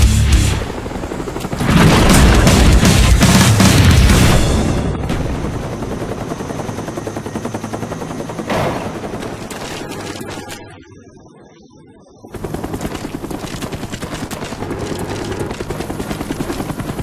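Cobra attack helicopter in Call of Duty Black Ops arriving with a loud, steady rotor roar, joined by booms and bursts of gunfire, briefly dropping out before the heavy drone resumes.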